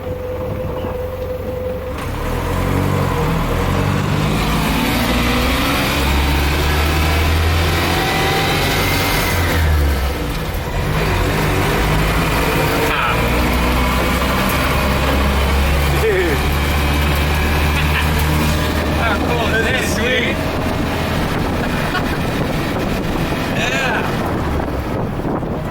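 An old car engine drones and revs while the driver works up through the gears, with heavy wind buffeting and someone talking over it.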